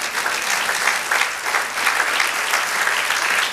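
A church congregation applauds at a Spanish-language sermon, a dense, steady wash of many hands clapping close and loud throughout, with no speech over it.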